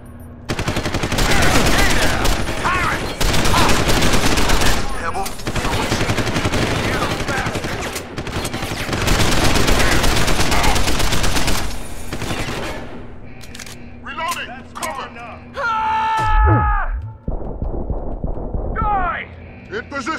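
Dense, rapid automatic gunfire in the video game Deus Ex: Human Revolution, loud sustained bursts for several seconds that break into scattered shots, with voices calling out between them.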